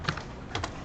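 A few quick keystrokes clack on a computer keyboard, two small clusters of light taps close to the microphone over a faint background hiss.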